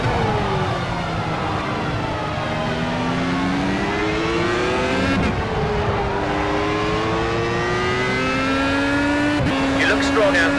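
A Formula A race car engine in Project CARS at Hockenheim, a high, sustained whine rising and falling through gear changes, close and loud, with someone talking over it.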